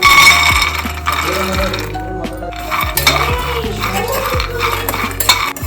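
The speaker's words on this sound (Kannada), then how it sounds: "ಈ ಥರ ಕೆಂಪಗಾಗೋವರೆಗೂ ಹುರ್ಕೋಬೇಕಿದ್ದು" Peanuts being dry-roasted in a pan and stirred with a metal spoon, giving repeated scraping strokes and clinks against the pan, fairly loud and close, with a brief lull midway.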